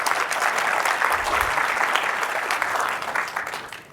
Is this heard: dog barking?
no